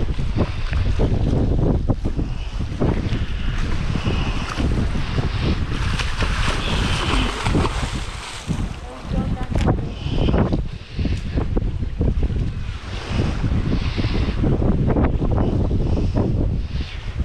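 Strong wind blows outdoors near water, roaring and buffeting the microphone in continuous gusts that briefly ease and then return, with no talking heard.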